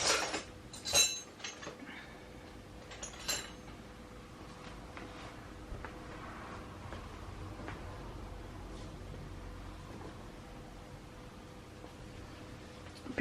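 A spoon texturing the sides of a handmade soap block, with a few faint clinks and taps clustered near the start, then a long quiet stretch of soft scraping and low background hiss.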